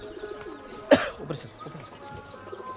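Large pigeons in a loft coo softly in the background, broken by one sharp, cough-like burst near the start, with no talking.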